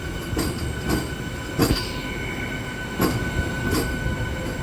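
A blue MEMU passenger train picks up speed on the rails near Kaldhari station after Nidadavolu Junction, a steady rumble broken by several sharp wheel and joint clacks, close and loud with no voices.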